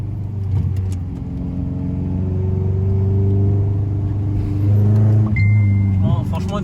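A small Honda car accelerates hard through corners, its engine note rising loud and steady with sweeping revs, easing briefly before climbing again, with a short squeal near the end.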